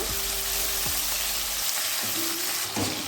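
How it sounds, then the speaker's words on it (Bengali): Chopped onion and tomato fry in a pan for a Bengali egg and aubergine curry, giving a loud, continuous sizzle with brief scraping stirs and a clink near the end. "এবার টমেটোটাকেও পেঁয়াজের সঙ্গে একটু ভেজে নেব"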